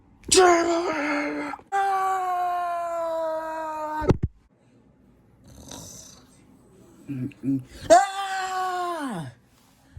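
A cartoonish animated character lets out long, loud wailing screams in drawn-out bursts separated by short gaps, the pitch sliding down at the end of each cry, with a few brief vocal grunts in between.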